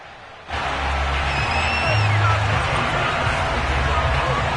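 Buffalo Bills fans fill an NFL stadium with a sudden, sustained roar of cheering that swells to a loud, steady crowd din and holds without a break.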